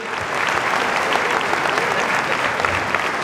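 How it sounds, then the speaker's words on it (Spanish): Audience at a live comedy show bursts into loud, dense applause that holds steady and continuous from start to finish, with no break in the clapping. "Fuerte el aplauso para la Mari."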